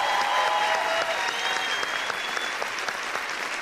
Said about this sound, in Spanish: Un aplauso. Hay que incentivar.